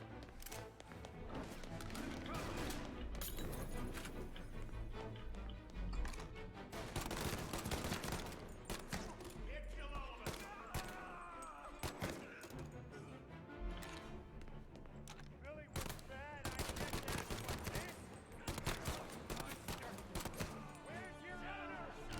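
Gunfire in the Mafia: Definitive Edition video game, with dense bursts of shots and fusillades over loud music or ambience, interrupted by quieter stretches, with voices talking over parts of it.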